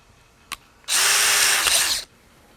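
A short click, then a power drill runs steadily for about a second, boring a hole in a Kammerlader rifle stock before stopping, close and loud.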